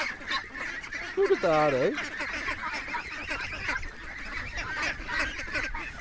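A few loud honking quacks ring out close by over a busy backdrop of bird chatter, with someone speaking briefly.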